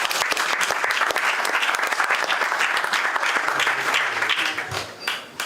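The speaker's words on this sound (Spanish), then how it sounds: "para quien pide un fuerte aplauso" Audience at a live Passover Seder event at Hacoaj breaks into loud, dense applause to welcome speaker Gabriel Ben Tasgal, sustained throughout and tapering slightly near the end.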